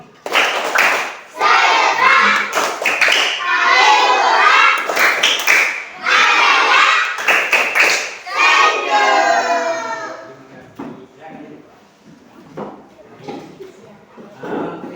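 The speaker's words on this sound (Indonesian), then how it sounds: "Kita nyanyi tepuk senyum." A standing group sings the Indonesian clapping song "tepuk senyum" with a teacher, voices chanting loudly in unison over rhythmic bursts of hand claps before fading into quieter scattered sounds.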